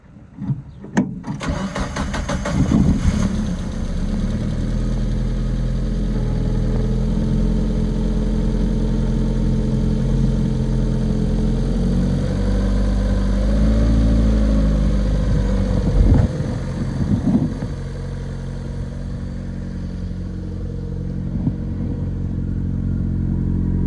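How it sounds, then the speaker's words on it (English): Idling engine of a Mazda Miata with a modified exhaust, a steady close, loud rumble after startup that holds for the whole stretch with a brief rev change midway, no talking. "let's see how the exhaust sounds now"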